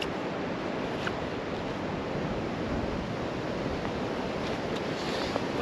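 Steady, loud rush of strong wind buffeting the microphone on a golf course, a constant roaring noise with no pauses throughout.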